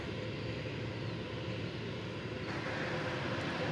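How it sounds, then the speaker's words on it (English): A passenger airliner arriving at DFW Airport from Orlando gives a continuous, loud jet roar with low rumble, steady throughout. "Here comes flight 2677 from Orlando in Florida"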